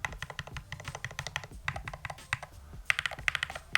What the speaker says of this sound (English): I can't believe these are Hall effect switches. They almost sound like a mechanical keyboard.